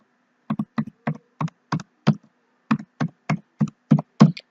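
A password is typed on a computer keyboard in a quiet room, about a dozen distinct close keystrokes tapped at an uneven pace with a brief pause midway.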